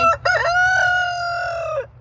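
A rooster on a farm lets out a single long, loud crow, held steady close by and then trailing off, with a faint low hum underneath.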